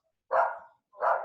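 Two loud, close dog barks, separated by a short pause, break into an otherwise quiet room during a lecture.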